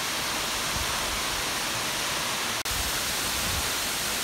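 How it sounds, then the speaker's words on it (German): Continuous heavy roar of a large waterfall dropping 100 metres in Tahiti, broad and unchanging, with a brief dropout partway through. "Der Wasserfall stürzt hier 100 Meter in die Tiefe"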